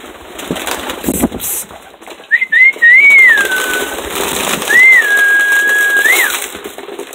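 Pet birds at feeding time make a couple of clear whistled calls over a faint background hiss with some soft knocking.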